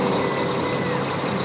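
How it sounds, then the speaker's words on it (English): A big Rola-Cola truck styled like a Coca-Cola truck rumbles past at a charity truck pull, a loud, steady engine drone with beeping and crowd noise. "it is getting followed by this big Rola-Cola truck"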